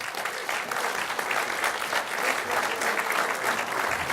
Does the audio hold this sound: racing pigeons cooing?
no